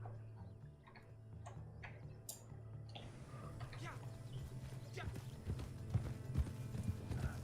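Horse hooves clip-clopping in a video game near a palace, a steady rhythmic series of light knocks that grows denser and a little louder, accompanied by a low hum and faint background ambience.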